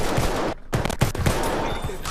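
Rapid gunfire from a Battlefield 1 match, several loud sharp shots in quick bursts with a brief gap, dense battle noise filling the background.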